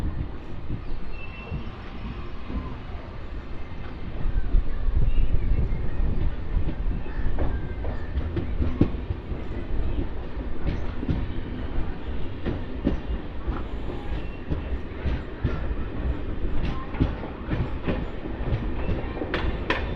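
A MEMU express train runs after leaving Gajapathinagaram station, with a steady rumble and a rhythmic clickety-clack of wheels over rail joints throughout, heard from on board.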